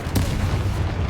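Confringo fire spell cast in the video game Hogwarts Legacy: a single sharp blast bursts out near the start, then a dense low rumble lingers at steady loudness for the rest of the moment.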